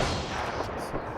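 A short, dense burst of rapid gunfire in the shooter game Apex Legends, loud and crackling with overlapping shots throughout.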